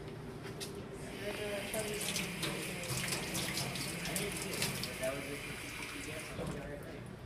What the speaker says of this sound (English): Let me get some fresh water here.